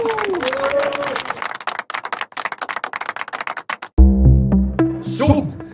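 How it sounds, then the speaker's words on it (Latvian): Clapping from a crowd at a boat regatta, a few seconds of dense scattered claps outdoors that stop abruptly as loud music or a voice over a sound system takes over. "Aplausi!"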